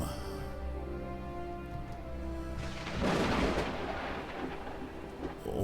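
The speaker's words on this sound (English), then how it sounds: "just heard some thunder and lightning" Thunder in the Space Engineers game breaks in about halfway through as a loud, broad rumbling crash that rolls on to the end, over a steady tonal hum.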